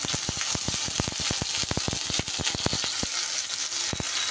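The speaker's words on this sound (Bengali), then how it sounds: "রসুন কুচিটা সামান্য একটু নাড়াচাড়া করে নিয়ে" Four cloves' worth of chopped garlic sizzles steadily in a hot pan of oil, with a quick run of sharp scraping and tapping strokes from a spoon stirring it, all close and without talk.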